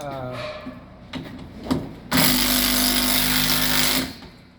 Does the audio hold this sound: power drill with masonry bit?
yes